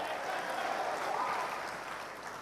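A seminar audience keeps up continuous, dense applause, many hands clapping at once in a steady wash with a faint murmur of voices mixed in.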